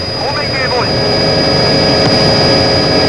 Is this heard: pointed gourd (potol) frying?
no